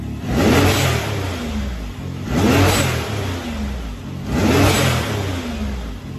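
A Can-Am Maverick X3 XDS UTV engine revs hard three times in a steady cycle, each surge ending in a sharp whooshing vent of air from an aftermarket blow-off valve, with no voices.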